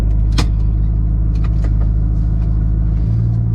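A car engine idling low and steady while the car is put in reverse, a constant close rumble with a brief click and faint interior sounds over it.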